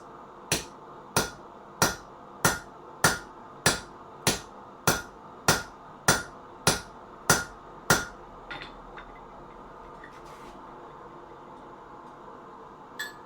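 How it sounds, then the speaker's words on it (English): A hammer drives a chisel to open the jaws of forged wolf jaw tongs at a blacksmith's anvil: twelve sharp, evenly spaced metallic blows ring out close by, followed by a few faint taps. "we're going to use this chisel to start opening this."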